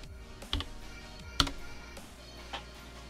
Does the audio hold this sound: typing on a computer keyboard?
yes